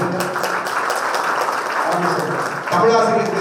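An audience at an educational trust award ceremony applauds a Tamil teacher, a steady wash of clapping throughout that swells louder near the end, with voices mixed in.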